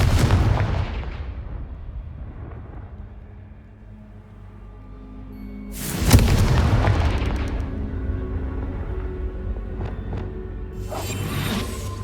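A Confringo fire spell cast in Hogwarts Legacy, heard as a booming blast that fades, then a second sharp explosive burst with crackling debris and rumble a few seconds later, then a smaller burst near the end.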